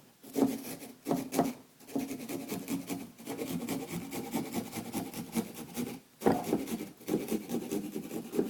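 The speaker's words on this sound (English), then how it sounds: "So whichever direction you're sawing towards, put the big serrated part towards it." A hand saw with a large serrated blade rasps steadily through what sounds like wood or cardboard, giving close, loud back-and-forth strokes with brief pauses between bursts of fast cutting.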